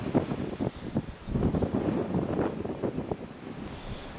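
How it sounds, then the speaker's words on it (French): Strong coastal wind at Land's End in Cornwall buffets the microphone in continuous rough gusts, loud and close, with the sea faintly beneath and no voices. "Ah, le vent il est là."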